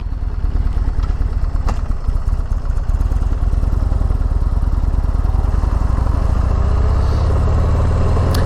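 A motorcycle engine runs steadily after being started for a DIY track day, a loud, continuous low throbbing rumble that stays close and even throughout, with no talking.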